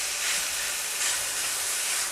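Indian taco dough frying in a hot skillet gives off a steady, bright sizzle and hiss that holds at an even level throughout, with no voices over it.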